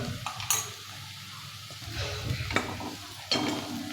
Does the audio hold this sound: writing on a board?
no